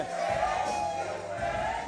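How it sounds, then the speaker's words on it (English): Arena crowd at a televised professional wrestling show cheering loudly for the tag team champions, a steady, dense roar of voices with shouts sustained throughout, under no clear speech. "Crowd solidly behind them."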